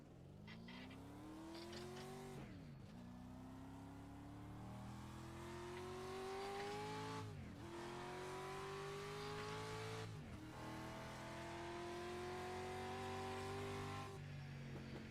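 Street stock race car engine in the iRacing sim at Concord Motorsport Park, revving up through long rising pulls with sharp drops at each gear change or corner, loud and continuous with occasional tire scrub.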